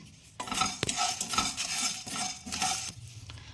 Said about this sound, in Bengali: গোটা ধনে গোটা জিরে লবঙ্গ দারচিনি এলাচ আর কয়েকটা শুকনো লঙ্কা পুরো আমি এটা কাঠফলের মধ্যে ভেজে নিচ্ছি